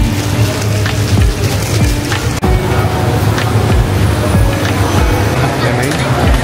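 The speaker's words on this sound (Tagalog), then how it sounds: "maulan na bagong taon" Steady rain pours down on a New Year's evening in Singapore, a dense continuous hiss of drops hitting surfaces close by, with scattered louder splashes and a brief break near the middle.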